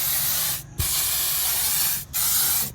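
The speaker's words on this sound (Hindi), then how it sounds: "अब ये मार लेते हैं ज़रा स्प्रे" An aerosol spray can hisses in long, loud, close bursts, with two brief pauses between the sprays.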